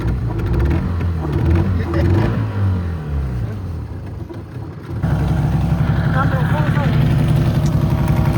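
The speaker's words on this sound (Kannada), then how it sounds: "ಸೊ ಈಗ ಇಂಜಿನ್ ಆನ್ ಮಾಡ್ತಾರೆ ಅಣ್ಣ ಬಾಸ್." A boat engine near Mangalore is started and settles into a steady, loud, low rumbling run, after a stretch of talk and background noise that gives way to the engine's continuous throb.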